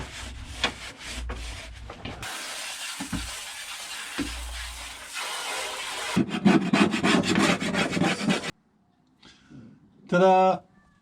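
Small parts of a Jaguar MK2 fuel tank being scrubbed hard, with rough rhythmic rubbing strokes in bursts, close and loud, broken by pauses; a voice talks briefly near the end.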